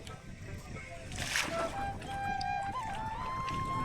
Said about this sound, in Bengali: আজকে নদীতে একটু ঢেউ বেশি।